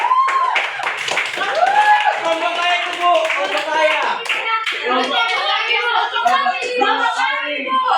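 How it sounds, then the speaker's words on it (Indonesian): A classroom of Indonesian schoolchildren claps for a classmate after a micro-teaching lesson on traditional Nias dance, a steady patter of many hands under children's chatter and a teacher's voice throughout. "Tepuk tangan untuk Poppy"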